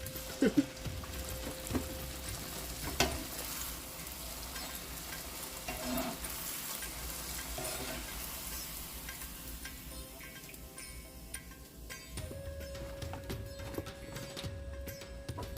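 Trinidad doubles dough frying in hot oil gives a steady, close sizzle that runs throughout, with occasional stirring clicks and brief bumps, and no voices.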